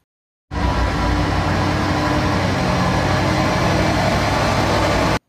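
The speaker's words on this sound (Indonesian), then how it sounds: "Truk crane" A truck crane's engine runs loud and close, starting abruptly with a deep, steady rumble that holds unbroken for about five seconds before cutting off.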